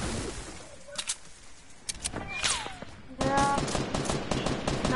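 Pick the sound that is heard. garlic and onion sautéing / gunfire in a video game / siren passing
gunfire in a video game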